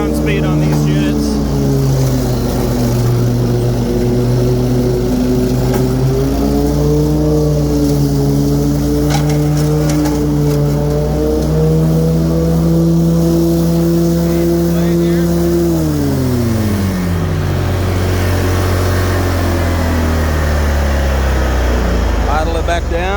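A 48-inch Exmark Lazer Z HP commercial-grade zero-turn riding mower engine runs loud and close at high revs, holds steady, then drops smoothly back toward idle.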